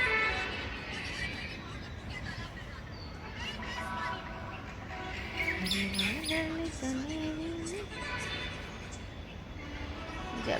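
Birds chirp outdoors in the evening, scattered short tweets at moderate distance over a steady outdoor background, with a voice-like sliding tone in the middle.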